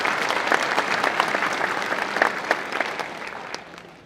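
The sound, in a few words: applause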